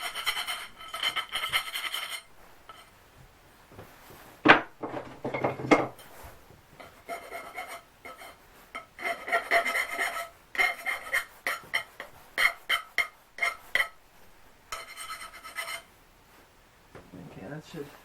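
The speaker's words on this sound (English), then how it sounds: "Let me get rid of that burr first with the file" A metal file rasps a burr off steel stock during a small tractor trailer build, with bursts of scraping strokes, a few isolated at first, then a quicker uneven run of short, close rubbing strokes with pauses between.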